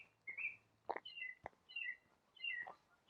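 Several birds sing outdoors amid surrounding wildlife, giving repeated short whistled phrases and chirps with a sharp click in between, fairly faint and at a moderate distance over quiet background hiss.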